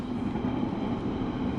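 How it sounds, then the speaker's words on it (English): A train rolls past nearby with a continuous rumbling, rattling drone at steady loudness throughout. "Sorry for the train."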